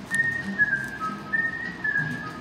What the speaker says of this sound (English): He actually like when they do the whistling.